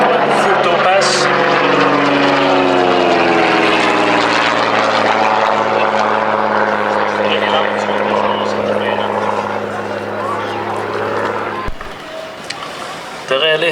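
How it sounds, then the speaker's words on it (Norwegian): A propeller airplane comes in to land in a crosswind at the Stord Airshow 2023 in Norway, its engine a loud, steady droning hum that shifts slightly in pitch as it passes, with a voice talking over it. "hvis dere følger nøye med nå, så ser dere at flyet vil komme inn litt på skrå"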